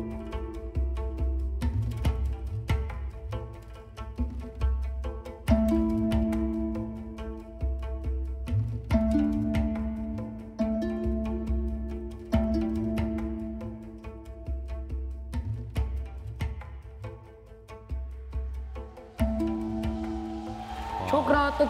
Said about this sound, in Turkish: Bu ney sesiydi değil mi?